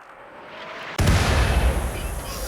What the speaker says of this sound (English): Oh, good explosions.